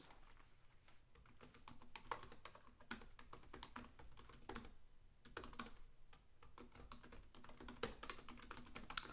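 Rapid typing on a computer keyboard, close and quiet, with irregular bursts of key clicks and brief pauses and no talking.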